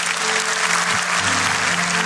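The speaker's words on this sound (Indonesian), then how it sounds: "Kasih tepuk tangan untuk Tuhan." Church congregation applauding during a Sunday service, a loud, dense burst of many hands clapping close by, with a low hum of organ or keyboard tones underneath.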